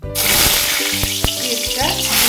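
Black mustard seeds, ginger, chili and nigella seeds fry loudly in hot oil with a steady close sizzle, broken by a couple of sharp spits.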